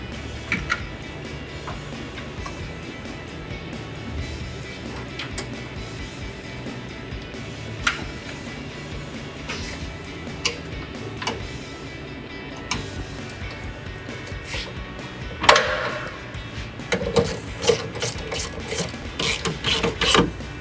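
A ratchet wrench snugging 10mm bolts on a 2007-2013 GMC Sierra 1500 headlight housing, a faint steady ticking of the pawl with occasional metallic clicks, growing louder and busier near the end.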